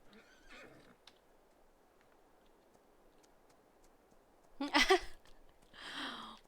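A horse whinnies in Farming Simulator 22, a short, loud neigh that bursts out near the end over quiet game ambience, followed by a softer trailing snort.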